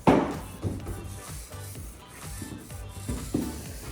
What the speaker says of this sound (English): And I scrape it along.